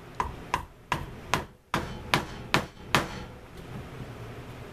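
A mallet strikes a chisel punching stitch holes in leather, eight sharp evenly spaced knocks in steady rhythm, each with a brief ring-off, close and loud, then a quiet pause.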